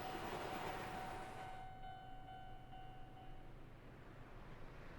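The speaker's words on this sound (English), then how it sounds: "How are the trains still going at midnight?" A train rumbles past a crossing at midnight in the video game Spirit Hunter: NG, with a steady roar, while faint tonal ringing fades out partway through; no voices.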